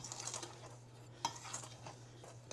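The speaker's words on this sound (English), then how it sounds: "I'm going to go ahead and just stir this up a little bit to get that sugar and flour and everything else mixed together" Dry sugar, flour and salt mixture for an eggless coffee cake being stirred in a bowl, a soft, quiet scraping with a few light clinks of the utensil against the bowl over a low steady hum.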